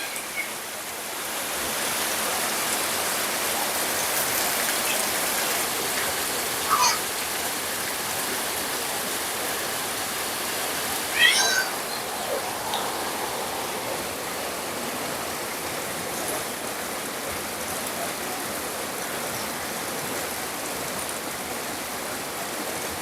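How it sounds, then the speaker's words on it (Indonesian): Steady rain falls around Sungguminasa town, a dense continuous hiss of drops pattering on surfaces, even and broadband throughout, with a couple of faint brief knocks partway through and no voices. "yang dinanti-nanti yaitu turunnya hujan"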